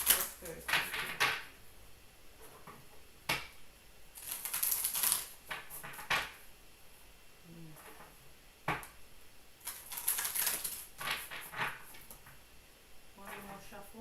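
Tarot cards riffle and slap in short crisp bursts, interspersed with quiet talking and soft handling noises.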